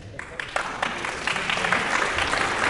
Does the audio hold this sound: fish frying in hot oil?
no